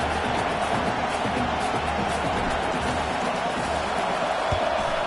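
A home crowd roars steadily at an American football game, a loud, unbroken wash of cheering that fills the whole stretch with no pauses.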